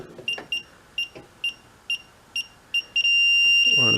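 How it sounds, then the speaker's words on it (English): A Klein Tools ET310 breaker finder gives a series of short electronic beeps at a quickening pace, ending in a continuous high-pitched tone, with faint background noise. "You're getting close to it, it starts beeping."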